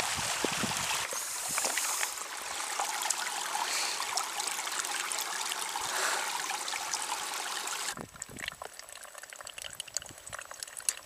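Stream water flows and trickles near a run-down bothy, a steady close rushing burble that suddenly drops to a quieter, patchier trickle near the end.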